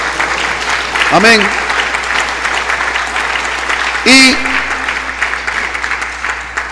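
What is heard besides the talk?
applause from the congregation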